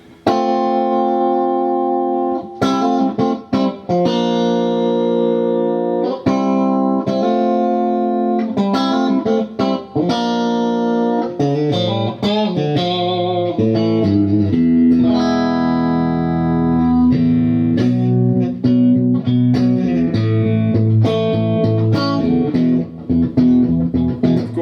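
Electric guitar played through a Harley Benton American Sound overdrive pedal with a compressor engaged, sustained chords and single notes ringing loud and steady with a slightly driven, effects-laden tone and trailing echo.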